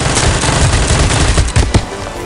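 Continuous rapid UZI submachine-gun fire in the mobile battle-royale Knives Out, loud and close, a dense unbroken rattle with a couple of sharper shots near the end.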